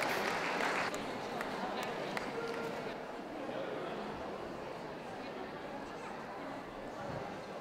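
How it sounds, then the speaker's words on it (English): Applause and crowd chatter at the City of Birmingham dog show working group ring, a loud burst of clapping fading to a murmuring audience, with faint footsteps and voices throughout. "Could you please give a round of applause for those Best of Breeds that are leaving us"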